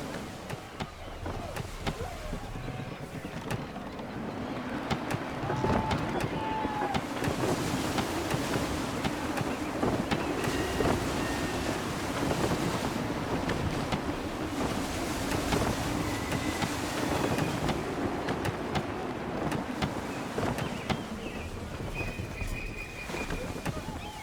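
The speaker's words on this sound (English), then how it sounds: "Wind looks to be shifting." Wind and waves around a sailing ship in Assassin's Creed III: a constant, full rush of gusting wind and breaking water, with muffled voices and ship creaks mixed in throughout.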